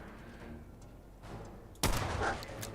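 Gunfire in Fallout 4, a quiet stretch broken by faint shots, then a sudden sharp loud blast followed by a sustained noisy burst of firing.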